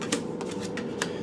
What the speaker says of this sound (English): That popped out while I was shuffling.